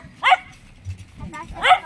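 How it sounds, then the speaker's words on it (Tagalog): A dog barks twice outdoors near a house, two short sharp barks about a second and a half apart, fairly close, with faint background sounds between them. "May aso, oh."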